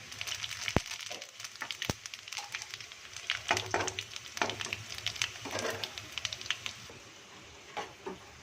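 Crackling sizzle of cumin seeds in hot oil for a kadhi tempering, a dense bed of pops and spits with a few sharp louder snaps, steady and close throughout.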